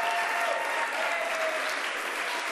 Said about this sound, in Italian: Facciamo un applauso anche a Federica, la nostra valletta.